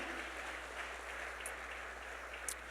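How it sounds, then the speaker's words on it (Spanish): Sustained applause from a church retreat congregation in New York City, a dense even patter of clapping that holds steady throughout, somewhat distant and soft. "Dele un aplauso para el Señor."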